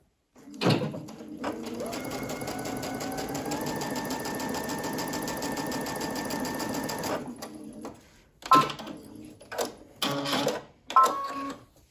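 A sewing machine stitches a T-shirt hem with a twin needle in one steady, close whirring run of about six seconds, followed by a few short bursts of stitching and handling sounds.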